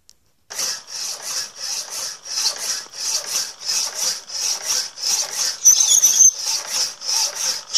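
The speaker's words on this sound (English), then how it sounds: "I'm sawing them in my mechanical saw, which I made a long time back." A homemade mechanical power hacksaw cuts through 2-inch square steel bar with steady, even back-and-forth strokes, close and moderately loud, with a brief metallic squeal partway through.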